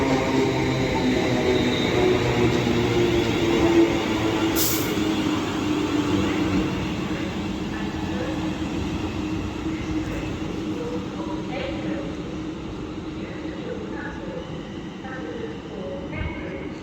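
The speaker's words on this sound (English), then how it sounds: "the trio of London Northwestern 350s are now off to Crewe" Three London Northwestern Class 350 electric units pulling out of Stafford on the West Coast Main Line, a steady rumbling drone of motors and wheels that eases slightly as they move away.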